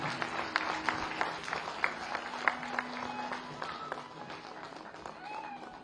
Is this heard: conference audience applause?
yes